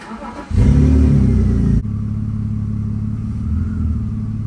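A BMW E46 sedan's engine roars as it starts and revs loudly, then settles into a steady close rumbling idle as the car is moved in a garage before brake work.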